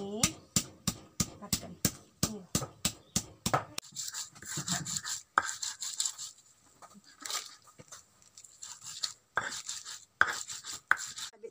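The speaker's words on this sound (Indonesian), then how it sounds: "Di sini kita akan menumbuk serai" Lemongrass is pounded in a wok with a dozen quick, evenly spaced thuds at the start, followed by irregular knocks, scraping and rubbing sounds at close range.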